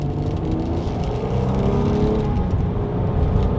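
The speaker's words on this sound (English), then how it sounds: "Let's do a quick little acceleration here and let's see how quickly we can get this new 2020 Nissan Murano up to speed" A 2020 Nissan Murano with a V6 accelerates from a rolling start, the engine note rising in a smooth climbing whir over road rumble, heard from inside the cabin with no talk.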